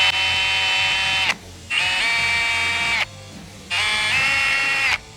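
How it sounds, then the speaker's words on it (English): A power drill with a small bit bores pilot holes in a fiberglass hood for a 1992–96 Ford Bronco or F-series truck, giving three loud, high whining bursts of about 1.5 seconds each with brief pauses between them. "While drilling marked holes like this, I always like to start by using a small drill bit"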